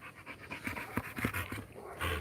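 Close, quiet, steady panting from a shepherd dog, short breathy puffs repeating in an even rhythm.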